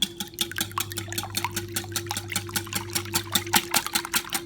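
Large eggs being whisked by hand in a bowl for a lava chocolate cake batter, a fast steady run of light tapping and sloshing strokes, close up, with a faint background hum and no speech.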